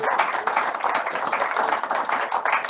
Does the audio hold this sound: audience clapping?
yes